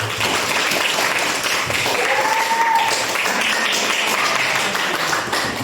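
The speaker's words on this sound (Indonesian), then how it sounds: "Tepuk tangan untuk Dewi." Classroom students clapping for a classmate, a continuous even patter of applause filling the room, with a brief voice or tone rising midway.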